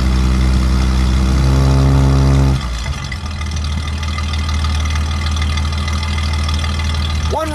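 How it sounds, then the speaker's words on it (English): A 1952 Nash Rambler Country Club Hardtop engine with single exhaust rumbles steadily, then its tone drops and settles into a rougher, lower idle that runs on, ending with a brief rising whine. "One rev, Dennis."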